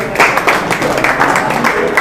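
Audience applause at a Marathi-language MPSC exam quiz class in Latur, breaking out after a correct answer; a steady, fairly loud patter of many hands clapping for about two seconds with no talk.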